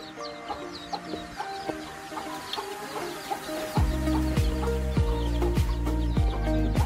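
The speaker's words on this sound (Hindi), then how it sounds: "ये हमारी दूसरी तीसरी मुर्गियाँ हैं" Hens on a farmhouse yard cluck repeatedly in short bursts, close by, with the clucking growing louder and more insistent partway through amid background bird noise.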